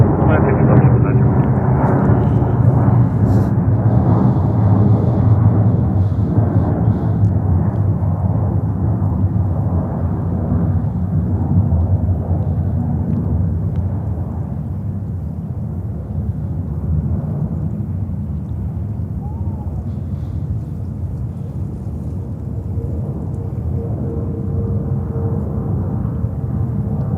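A four-engine Ilyushin IL-96 jet departs JFK airport from runway 22 left. Its broad, steady roar is loud at first and slowly fades, running continuously under air traffic control radio talk.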